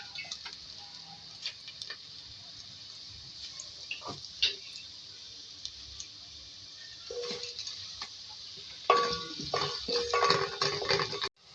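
Two medium onions, a bay leaf and cloves frying in a pan: a steady, faint sizzling hiss with occasional ticks and clinks of a utensil, growing busier and louder near the end.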